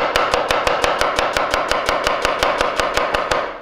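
A cleaver chops a red onion thinly on a board in a fast, even rhythm of sharp, loud knocks, about five strikes per second, heard close with no talk.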